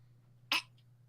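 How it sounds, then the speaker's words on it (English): A single short, stifled cough bursts out once in an otherwise quiet room over a low steady hum, brief and muffled as if held back. "It wasn't holding back a laugh. It was holding back a cough."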